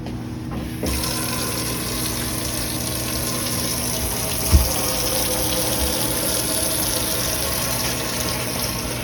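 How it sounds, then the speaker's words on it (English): Water runs steadily into a dental sterilizer to bring it up to the fill line, a loud, continuous gushing hiss with a steady hum beneath, broken by one brief knock midway. "While I'm waiting for the last of my water to fill"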